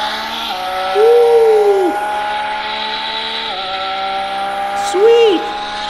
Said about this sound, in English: And here's with the 12-cylinder fired up.